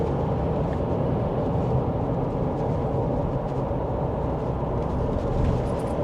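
A 2025 GWM Cannon 2.4T 4WD with a nine-speed automatic accelerates on the road, heard from inside as a steady, dense rumble of engine and road noise, continuous and fairly loud with no talking.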